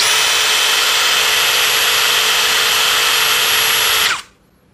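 A JLD power drill with a bit fitted runs at full speed, a loud, steady high-pitched motor whine held for about four seconds before it abruptly winds down and stops, leaving near silence.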